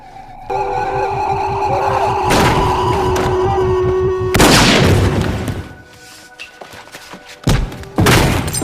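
Gunfire from the film Memento: a deep boom with a sharp, loud report cuts through a sustained tonal score, followed by a couple of brief thuds as the music drops away.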